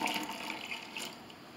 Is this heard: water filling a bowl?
yes